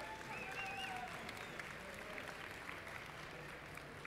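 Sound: audience applause welcoming the speaker

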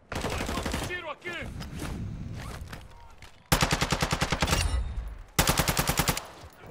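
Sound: gunfire in video game Warzone 2.0 DMZ

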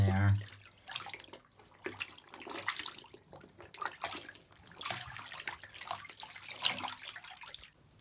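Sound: water soaking through denim jeans

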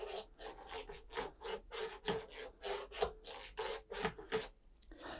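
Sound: CNC router bit catching all around spoilboard after tramming

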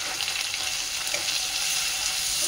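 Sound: frying and stirring ginger paste, green chili and turmeric

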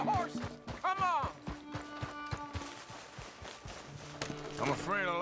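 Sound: horse hooves galloping in Red Dead Redemption 2 video game

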